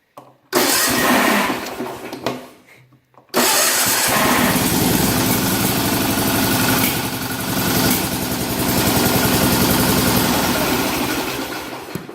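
An engine with a Mikuni mechanical fuel pump cranks and catches on a cold start with the choke pulled, stumbles and briefly dies, then fires again into a loud, steady, rough idle close by.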